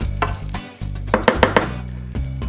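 Vegetables frying in oil in a pan, with a steady sizzle and a few quick stirring scrapes and clinks near the middle, close by and with no voices.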